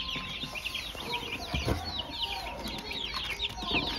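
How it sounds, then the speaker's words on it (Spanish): Week-and-a-half-old chicks peep rapidly and continuously in high chirps while a hen clucks nearby, with a brief thump partway through. "tenemos pollitos bebés de una semana y media de vida"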